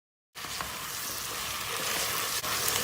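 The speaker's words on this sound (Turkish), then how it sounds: "Salçayı da patatesin her tarafına değdiriyoruz. Bir kere karıştırıyoruz." Potatoes coated in tomato paste fry in a pan, a steady loud sizzle starting suddenly and holding evenly, with faint stirring scrapes underneath.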